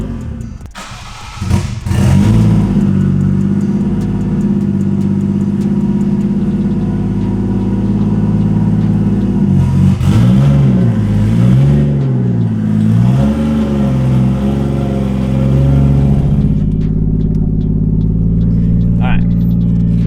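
A Lexus IS300 fitted with a 1JZ engine runs loud and close, with a steady throaty drone that swells into wavering revs partway through before settling back to an even, sustained note.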